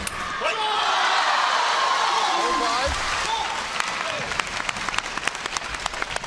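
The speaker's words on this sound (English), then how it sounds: "Team China rise to applaud their leader." Applause from the audience at a table tennis world championship qualifier in London, a dense swell of clapping that thins into scattered claps and ball-like taps, with commentary faintly underneath.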